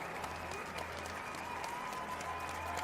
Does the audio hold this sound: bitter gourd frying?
no